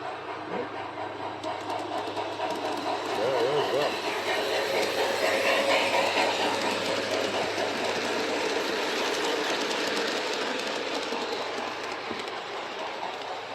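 A model train with a caboose runs along an outdoor deck, a continuous close mechanical whirring and clicking rolling on steadily for the whole stretch with no break.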